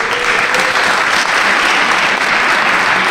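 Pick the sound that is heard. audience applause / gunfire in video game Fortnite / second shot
audience applause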